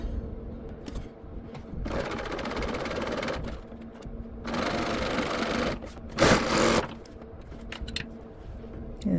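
A serger overlocker trims and stitches quilt seams and borders, running in several long continuous bursts with brief pauses between, close and steady.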